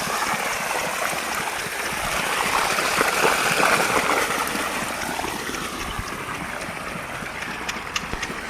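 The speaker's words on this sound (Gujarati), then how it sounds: "આ લાઈનમાં પોણી ચાલુ છે" Irrigation water rushes and gurgles steadily through a field channel watering mango trees, a continuous loud flowing noise with a faint engine hum beneath it.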